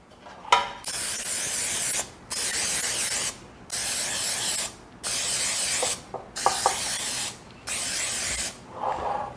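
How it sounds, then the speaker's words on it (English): Hissing bursts of cooking spray on a large muffin pan repeat in a steady rhythm, about six sprays, each a second or so long, with brief clicks between. "I'm going to spray these really, really well."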